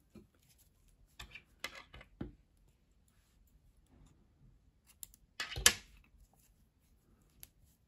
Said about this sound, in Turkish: Beyaz ipliği kesiyorum.